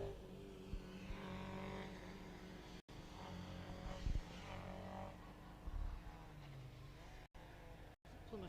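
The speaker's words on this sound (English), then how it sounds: "It sounds sick, it sounds like it's dropped a cylinder." A Proton Compact rally car's engine at the Mull Rally runs roughly nearby with uneven, stumbling revs and brief dropouts, misfiring after dropping a cylinder.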